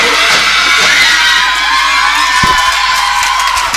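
A loud indoor crowd cheers and shouts continuously at a women's handball cup match, with whoops and a sharp bang partway through, a dense roar throughout.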